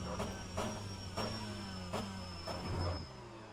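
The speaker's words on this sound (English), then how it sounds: "You already hear the limiter." A BTCC touring car engine in a racing video game, held near top speed at Monza, bouncing off the rev limiter in repeated pulses, about five or six stutters in quick succession over a steady drone.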